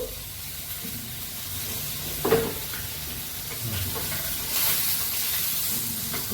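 Tempering for a Mangalorean-style fish curry sizzles steadily in hot oil, a continuous frying hiss with a brief louder spatter partway through and occasional stirring clinks, no voices.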